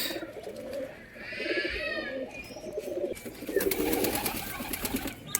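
Pigeons coo softly in low, throaty bursts, with faint chirps and rustling around them, slightly distant.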